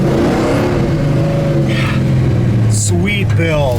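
A 1966 Chevelle restomod's engine revs up and climbs in pitch, loud and close, with people talking over it.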